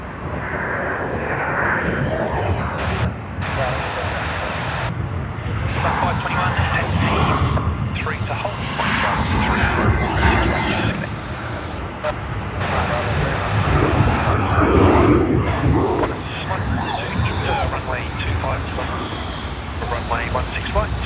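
A departing aircraft at Sydney Airport: a loud, sustained engine roar filling the whole span and swelling toward the middle, with radio chatter and a voice talking over it.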